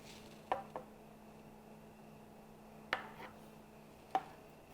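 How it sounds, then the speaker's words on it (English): A knife tip taps down into a tray of ekmek kataifi, the Greek shredded-pastry dessert, marking portions: three or four sharp, light clicks spaced irregularly over a quiet kitchen background. "So you can just mark each portion with a knife."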